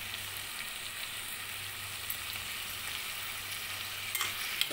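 Vegetables such as carrot and potato stirred in a hot pan for vegetable biryani, a soft continuous sizzle with faint scraping and a low hum underneath, no voices.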